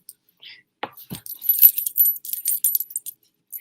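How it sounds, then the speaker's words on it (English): Metal charm and beaded bracelets click and jangle close by while clothes are folded, with irregular bright clinks and rattles in quick bursts and no talk. "the clicking around you hear is my bracelets"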